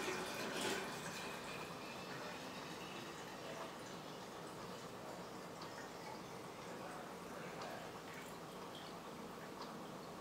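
Water pours steadily into a jar for making water kefir, about one and a half litres going in as a continuous, fairly loud rushing splash that holds evenly for the whole stretch, with no talking.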